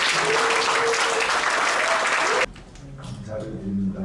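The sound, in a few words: audience applause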